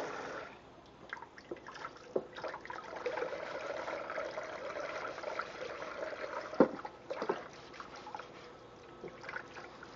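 Faucet water runs and trickles while a soup pot is rinsed in a kitchen sink, a soft steady stream with occasional clinks and splashes, quiet and close.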